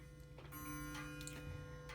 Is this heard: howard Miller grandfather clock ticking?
yes